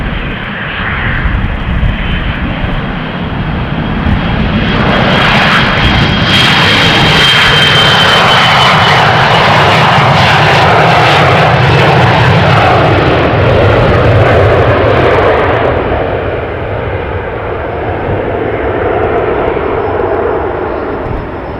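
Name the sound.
Embraer 175 jet taking off at Amsterdam Schiphol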